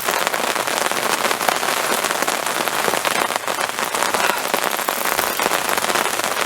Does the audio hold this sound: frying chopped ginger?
no